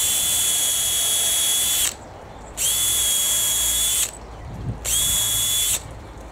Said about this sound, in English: The top of each board will be drilled and screwed manually